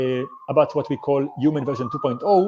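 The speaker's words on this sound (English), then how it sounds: "I'm sorry about the sirens in the background" A wailing siren in New York rises and falls in the background while someone talks steadily over it.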